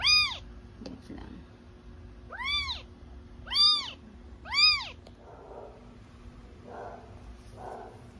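High, thin kitten meows, four clear cries spaced a second or so apart, with faint soft murmuring and rustling between them.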